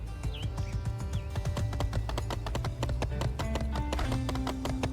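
Horse hooves clip-clopping steadily in the video game My Time at Sandrock, a quick repeating rhythm of close, clear hoof strikes over background game music.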